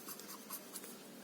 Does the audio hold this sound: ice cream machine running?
no